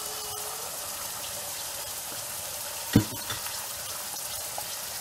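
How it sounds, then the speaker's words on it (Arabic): Eggs frying in salted melted butter in a pan give a steady, low sizzle throughout, with one sharper clack near the middle and a few faint knocks afterward. "بعد ما الزبدة دارت لي ضفت عليها الملح، فغادي نضيف دابا البيض"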